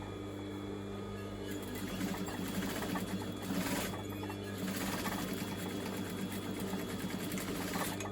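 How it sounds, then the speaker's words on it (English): A sewing machine stitches along pocket material for a Spider-Man sewn gift, a close, steady rapid chatter of needle strokes with a constant motor hum and brief shifts in pace. "So actually stitching on the pocket material"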